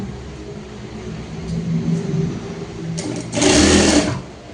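A sewing machine stitches an apron seam, its motor whirring in steady bursts that build to a louder, faster run near the end, close and prominent.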